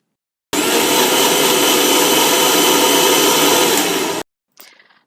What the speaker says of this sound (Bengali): এবার এই সমস্ত উপকরণ একসাথে ভালোভাবে ব্লেন্ড করে নিলেই কিন্তু আমাদের মিল্কশেক একদম তৈরি।